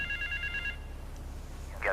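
Payphone ringing in the video game Grand Theft Auto 3, with short repeated electronic ring tones for the first part, then a quieter game background with a brief tone near the end.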